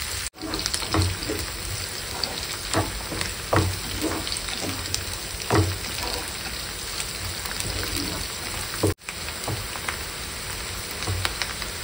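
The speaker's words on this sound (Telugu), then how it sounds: "ఉల్లిపాయను, పచ్చిమిర్చి వేసుకున్నాం కదా, ఇవి పచ్చివాసన పోయేంత వరకు కూడా వీటిని కొంచెం వేయించుకున్నాము" Onions and green chillies frying in a pan, giving a steady close crackling sizzle throughout with scattered louder pops and stirring scrapes, with two brief dropouts in the sound.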